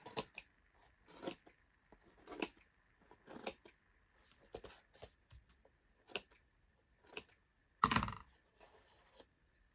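Scissors trimming the cover material on an acrylic clipboard, a series of crisp, separate snips spread out over the stretch with quiet gaps between them, one louder cut near the end.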